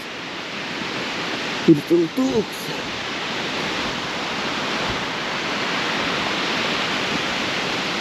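A waterfall among hills and countryside pours out a steady, full rushing roar that fills the whole stretch, with a brief spoken phrase near the start.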